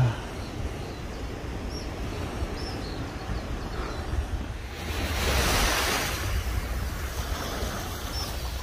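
Wind and surf on Chuam beach near the Hyeongje rocks, a steady broadband wash of waves with gusting wind noise that swells louder midway through, no talking.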